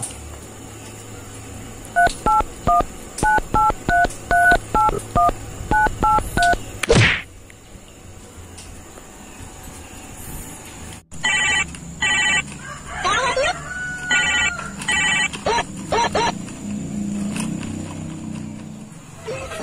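A mobile phone dialing, heard as a fast run of distinct keypad tones, then a thump and a repeating ringback tone, with people talking over much of it.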